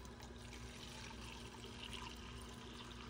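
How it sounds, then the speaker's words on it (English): Water flowing from a Frigidaire refrigerator dispenser into a cup, a steady close rushing stream with no break. "All right, so water's coming in nicely."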